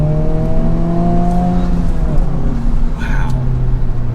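A 2024 Honda Civic Type-R, front-wheel drive, revs hard while being driven aggressively; the engine note climbs and sweeps through the gears under road noise, with a brief higher whir near the end.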